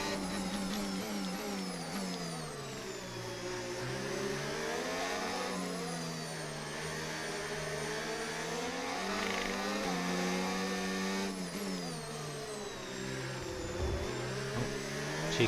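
Formula 1 car engine from the F1 25 video game during a race at Miami, a loud continuous high-revving whine with rising and falling pitch as the car accelerates and shifts gears, steady throughout with no talk.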